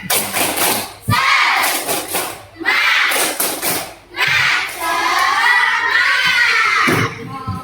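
Students in a classroom repeat a rhythmic spirit clap cheer, bursts of chanted voices punctuated by sharp claps and thumps in a loud, lively pattern over several seconds.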